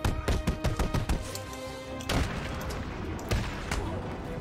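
Gunfire in the video game Batman: Arkham City, a rapid cluster of sharp shots and impacts followed by scattered louder bangs over a busy, noisy game background.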